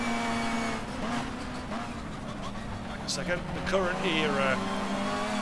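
A super touring car screams at high revs in the Race 07 racing game, the engine tone rising and shifting through gear changes beneath someone talking over it.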